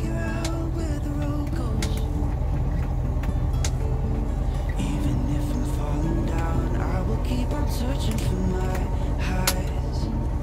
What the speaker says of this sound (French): On va laisser passer la voiture.